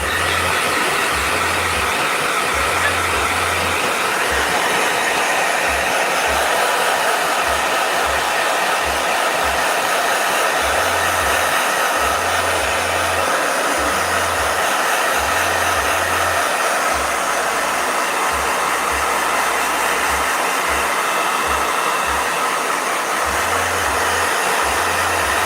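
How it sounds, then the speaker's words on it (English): A hair dryer blows with a steady, loud rushing whoosh, holding constant and alone for the full stretch without pause. "Blow dryer."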